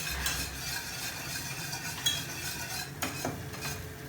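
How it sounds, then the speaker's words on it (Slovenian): A thick Slovenian masovnek is stirred in a pot with a spoon, giving scraping, sticky stirring sounds and a faint sizzle, with a few sharper utensil knocks against the pot and no voices. "Po nekaj minutnem mešanju se jed začne ločevati od posode."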